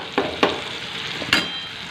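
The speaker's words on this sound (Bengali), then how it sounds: "টমেটোটা প্রায় আমার একটু ভালো মতো ভাজা ভাজা হয়ে গেছে, একটু গলে গলে গেছে টমেটোটা" Tomatoes fry in a pan until soft and breaking down, a steady close sizzle with a few sharp scrapes of stirring cutting through it; no one speaks.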